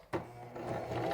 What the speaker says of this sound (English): I'm going to start with a back stitch